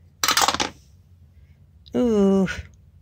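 Dice rattle and tumble in a short burst for a reading-list roll, followed after a pause by a brief voiced sound.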